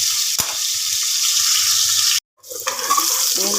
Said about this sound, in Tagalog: Kaya natin guys mag-aroma ang ating sibuyas, bawang at luya.